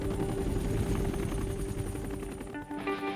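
Vietnam-era Bell UH-1 Huey helicopters lift off together, a loud, steady rotor chop and turbine roar filling the scene, with a brief dip near the end.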